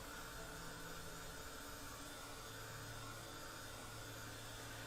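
A hair dryer runs steadily, drying a wet watercolor winter cardinal ornament card, a constant close broadband whoosh with no pauses for the full length and no voices over it.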